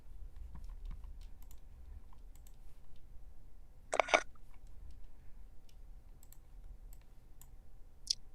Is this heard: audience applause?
no